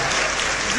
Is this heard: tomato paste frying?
no